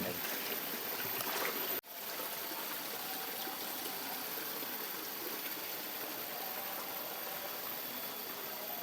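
A small river or ditch stream flows with a steady, fairly faint broadband rush and trickle, a brief clunk near the start, no voices.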